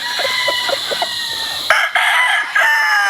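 A Dan Gray round head rooster, wine red with white legs, crows loudly and close, a long harmonic call following a stretch of softer clucking and background fowl noise.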